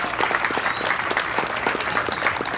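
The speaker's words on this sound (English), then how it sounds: "please give yourselves a round of applause" Steady applause from a crowd honoring youth coaches at a sports league's opening day, dense clapping filling the short stretch at an even level with no talk over it.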